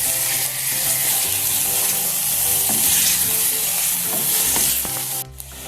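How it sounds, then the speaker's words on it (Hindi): Chicken pieces are stir-fried in a pan, with a loud continuous sizzle and a low hum underneath and occasional scraping stirs. The sizzle drops away abruptly near the end. "चिकन को हम थोड़ी देर तकरीबन 5 मिनट इसको इस तरह भूनेंगे।"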